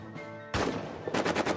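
Machine gun fire in the trench warfare game All Quiet in the Trenches, a short rapid burst of repeated shots that starts abruptly after a quieter moment and rattles on at close range.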